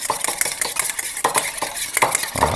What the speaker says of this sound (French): on rajoute notre lait sur nos jaunes. On va venir les mélanger